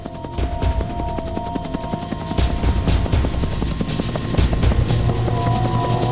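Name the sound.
rescue helicopters flying over flood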